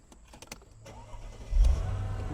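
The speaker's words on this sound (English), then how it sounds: "let's get the engine started" A few soft clicks, then a 2003 Mercedes-Benz SL500 Roadster engine cranks and catches, settling into a low, steady idle nearby.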